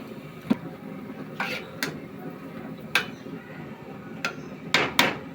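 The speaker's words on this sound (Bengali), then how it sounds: "এখন আমি এই মাছের মাথাটি দিয়ে দিব কষানোর জন্য।" A hilsa fish head being added to a pan with taro for frying, heard as scattered sharp metallic knocks and clatters of utensils against cookware over a low, steady kitchen background.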